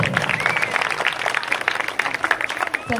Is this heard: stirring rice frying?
no